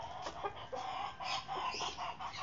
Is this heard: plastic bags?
no